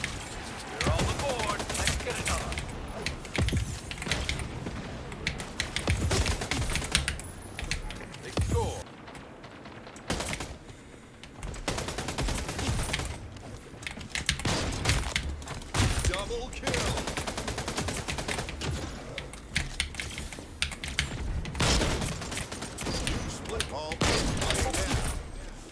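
Gunfire in a first-person shooter video game, rapid bursts of automatic shots and reload clatter coming in repeated clusters across the whole stretch, loud and close, with brief lulls and a voice occasionally talking over it.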